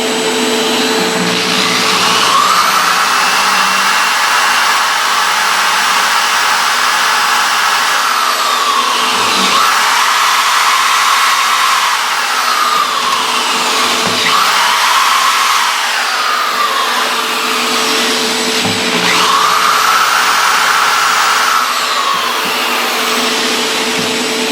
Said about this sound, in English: I'm going to have to kind of Dremel out a little bit further in